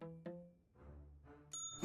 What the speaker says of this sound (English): No hotel front desk is complete without a bell.